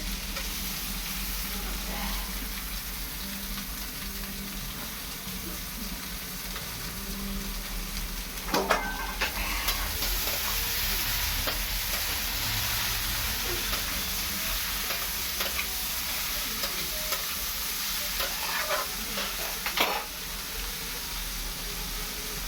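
Soaked okra hits a hot pan and sizzles continuously, with a steady crackling hiss, a few louder spatters and stirring scrapes throughout.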